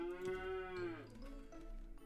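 A single drawn-out cow moo in a video game, loud and close, with a falling tail, followed by soft background game ambience.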